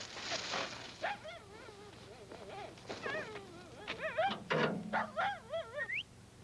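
Dog whimpering and yipping indoors, a string of high, wavering whines and short yelps that come in quick bursts, close by and fairly quiet, with brief pauses between cries.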